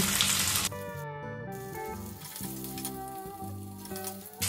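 White cumin, ginger and garlic fry in hot oil in a pan, giving a steady close sizzle with faint crackle and stirring scrapes throughout, with brief music-like tonal sounds layered over it.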